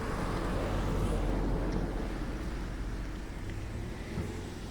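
A car approaches from behind on a village road during a bicycle ride, its steady low engine and tyre rumble blending with wind noise throughout.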